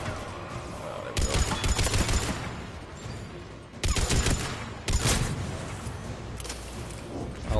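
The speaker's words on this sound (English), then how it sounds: "I'll help the people by shooting the enemy in the head multiple times" Weapon fire while shooting enemies in the video game Mass Effect 3, heavy sustained bursts of automatic gunfire broken by brief lulls, loud and close with a booming, crackling texture.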